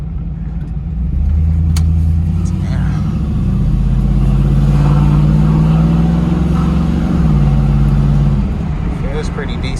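Chevrolet Camaro SS, bought at auction, idling and revving with its newly fitted exhaust, a loud, deep, steady rumble with one drawn-out rise in pitch, heard close up.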